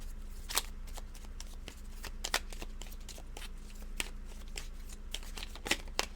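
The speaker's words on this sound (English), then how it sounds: "I hate when I sloppy shuffle." Oracle cards being shuffled by hand, a steady run of soft papery riffles and flicks with a few sharper snaps, close up, no talking.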